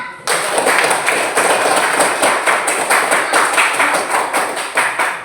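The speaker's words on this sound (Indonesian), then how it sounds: "Tepuk tangan." Applause for the third-place group in a classroom, loud rhythmic clapping in unison with regular pulsing beats, starting abruptly and sustained throughout.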